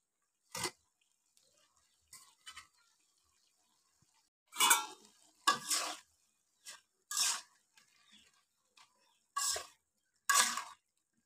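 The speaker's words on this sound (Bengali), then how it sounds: "এবার নাড়িয়ে দিয়ে এই দেখুন এর মধ্যে মাছের মাথাগুলো দিয়ে দেবো।" Malabar spinach curry is stirred and fish heads are added to the pot, giving sparse, close bursts of clattering and scraping from a utensil against cookware, separated by near silence.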